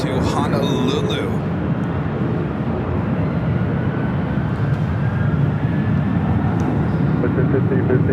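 A jet airliner at Los Angeles airport rolls out on its departure toward Honolulu, a steady broad engine roar that holds loud and close throughout, with radio chatter briefly audible at the start.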